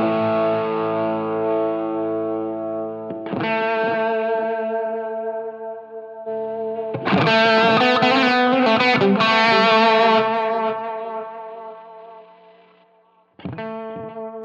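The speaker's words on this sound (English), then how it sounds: "I put a distortion pedal of some sort, let's go with the Air Apparent" Electric guitar through an Air Apparent distortion pedal on a Line 6 Helix rings out in sustained, overdriven chords and notes with long decays, played alone with a brief pause and a final struck chord.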